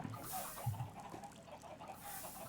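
Blocky Minecraft chickens cluck in a crowded pit, a soft, continuous cluster of clucks and fowl chatter heard at low volume without talking.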